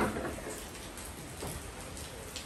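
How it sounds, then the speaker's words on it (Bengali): Continuous rain keeps up a steady, even patter of droplets with a broad soft hiss all the way through, no voices over it. "বৃষ্টি চলতেছে, অবিরাম বৃষ্টি,"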